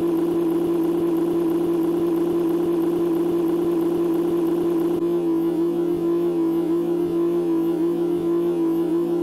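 Steady mid-pitched truck engine drone from the video game Big Rigs: Over the Road Racing, a constant droning hum that shifts slightly in tone midway, with no talk over it.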